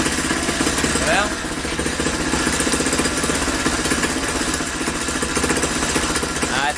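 A small Manco Dingo go-kart engine, a little yellow Fireball, idles close by with a steady rapid putter, while a person talks over it.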